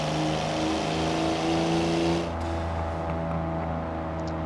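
Car engine in Forza Horizon 4, the closest in-game stand-in for a Toyota Supra, revving loudly with a steady droning growl that eases off midway and settles into a lower sustained hum.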